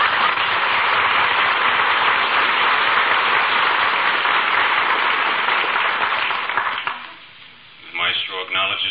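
Heavy, sustained audience applause for a philharmonic orchestra and its maestro in an old radio broadcast, a dense band-limited roar that fades out after about seven seconds before a voice begins speaking.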